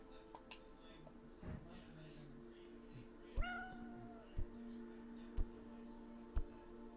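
A cat meows in the video game Lost Words: Beyond the Page, one clear rising-falling meow in the middle against a soft hum, with faint ticking clicks spaced through the scene.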